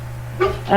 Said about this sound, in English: That's a dog. Yeah, that's a dog. That's not a hum.